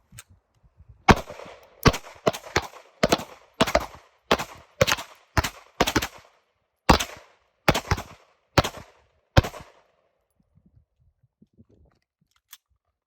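Gunfire at a shooting range during drills: about fourteen sharp, loud shots in an uneven quick cadence, some in fast pairs, followed by quiet with faint shuffling.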